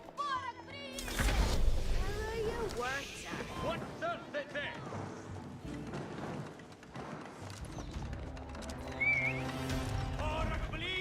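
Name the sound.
cavalry scouts on horses fighting in Age of Empires 4 video game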